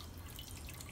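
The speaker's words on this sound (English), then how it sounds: "So I'm gonna put a little bit of water into this saucer," A small amount of water trickling and dripping into a plant saucer during tomato planting, a brief, close, soft splashing with no voices.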